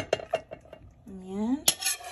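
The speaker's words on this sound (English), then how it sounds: "let's plate our beef steak" Beef steak being plated, with dishes and cutlery clinking in a few light, separate taps, then a scrape and one louder clatter near the end, close by with no talk.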